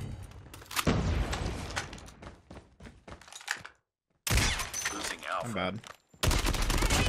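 Rapid bursts of AK117 rifle fire in a Call of Duty Mobile ranked match, loud and dense, broken by brief pauses and a near-silent gap, with a player's voice speaking over parts of it.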